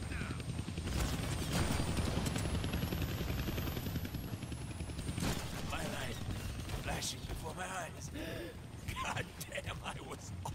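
Helicopter in the Deadpool video game: a steady rotor drone under continuous game noise with mechanical clatter and bursts that may be gunfire, with a voice speaking through the middle of it.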